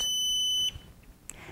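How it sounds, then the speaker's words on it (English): A PIR fall alarm, set off by a hand passing its motion sensor, emits a loud, steady, high-pitched electronic tone for under a second before abruptly stopping, leaving faint room noise. "pass your hand through the sensing field. The alarm will sound."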